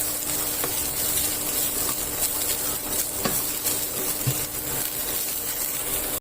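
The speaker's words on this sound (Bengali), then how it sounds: "গাজরগুলো একটুখানি ভাজা ভাজা করে নেব।" Chopped carrots sizzle steadily in a hot pan while a utensil stirs them, producing a continuous close hiss with occasional light scraping taps.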